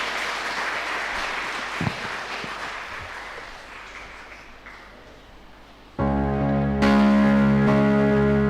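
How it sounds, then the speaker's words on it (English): Applause from a school investiture ceremony audience welcoming the choir onstage, steady crowd clapping for about six seconds before a loud sustained musical tone abruptly takes over. "please be generous with your applause and welcome them onto the stage"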